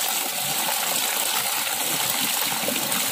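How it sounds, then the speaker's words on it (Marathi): Rovan mushrooms being rinsed in water, a steady close wash of splashing and running water that fills the whole stretch at an even level without pause. "ही व्यवस्थित आता धुवून घेणार"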